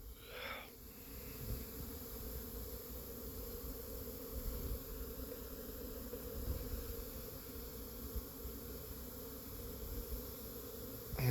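Bees buzz in a steady, faint drone, with many insects humming together at a distance outdoors and no talking.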